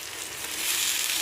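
Steady, close-up sizzling of food frying in a pan, a bright crackling hiss that grows slightly louder toward the end, with no voices.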